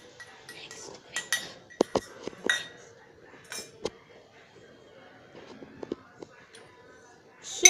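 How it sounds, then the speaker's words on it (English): Metal utensil clinking and tapping against a bowl while eggs are whisked for French toast, irregular scattered strikes with quiet gaps, close and moderately soft. "We need to beat the eggs."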